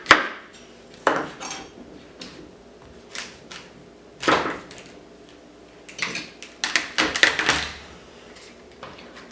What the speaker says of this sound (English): So the first thing you want to do for the fennel is just cut off the top and the bottom.